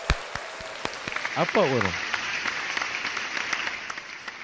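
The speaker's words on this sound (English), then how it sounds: "Let's give him a round of applause" Studio applause breaks out on a talk show, scattered sharp hand claps from a small group mixing with someone speaking over them, the clapping brief and close while the voice keeps going.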